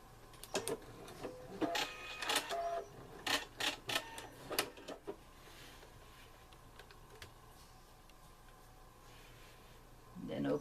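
A home sewing machine back-stitching to lock a seam on a clothes pin bag (Butterick 5767), heard as a run of short, sharp mechanical clatters and clicks that fade into quiet room tone, with a brief sound near the end.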